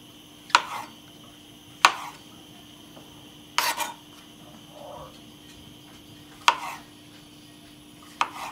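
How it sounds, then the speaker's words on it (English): A knife quarters mushrooms on a cutting board in a home kitchen, giving sharp, isolated chops spaced a second or more apart, close and crisp over a quiet room with a faint steady hum. "So, quarter the mushrooms."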